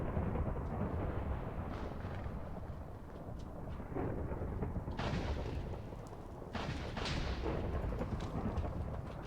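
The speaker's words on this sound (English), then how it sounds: "the incredibly loud and annoying thunder strikes that happen every 2 seconds" Thunder strikes in Minecraft on a Jupiter-like gas giant world: dense, booming rumbles and cracks repeating every few seconds over a constant low roar, loud and without voices.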